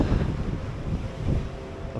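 Steady wind gusting across an outdoor seaside pier, a broad low rumble buffeting the microphone with swells around the start and again near the middle, no voices.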